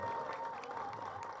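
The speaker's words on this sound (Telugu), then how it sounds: "క్లాప్స్ కొట్టండి" An audience claps at the audio launch event for the film Meeku Meere Maaku Meme. The applause is a steady, dense wash that holds for the whole brief moment, with a faint steady tone running underneath.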